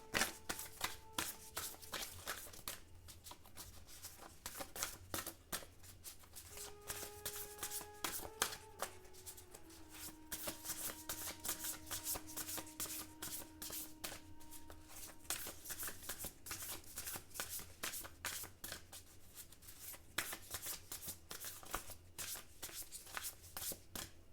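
A tarot deck is shuffled by hand before a draw, with steady close riffling and soft flicking of cards continuing throughout, over faint sustained background tones.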